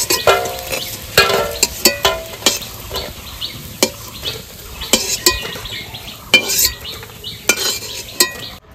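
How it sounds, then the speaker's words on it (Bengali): Fried hinche (helencha) leaf fritters being lifted out of hot oil with a slotted spoon, soft sizzling under repeated sharp metal scrapes and clinks against the pan. "বড়াগুলো বেশ আস্তে আস্তে জাল দিয়ে ভেজে নিয়েছি, এবার তুলে নেব"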